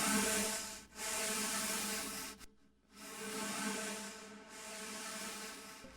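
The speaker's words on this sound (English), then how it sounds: "I recorded myself rubbing my nail along it, and it sounds kind of like this." Fingernail rubbed along a cardboard wrapping paper tube, giving a steady close scratchy hiss in long strokes with brief pauses between them.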